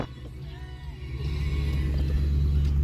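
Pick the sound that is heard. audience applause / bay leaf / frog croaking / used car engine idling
used car engine idling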